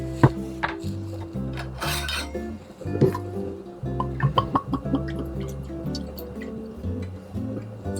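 Bourbon poured for a cocktail, 1.5 ounces measured out, giving soft dripping and trickling with a few light glass clinks, all set under steady background music.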